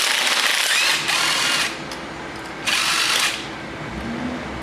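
A power tool whirs in two bursts, loosening the final transmission pan bolt on a 2001-2007 Toyota Highlander AWD V6, with a quieter steady hum in between and after, close up and without talk.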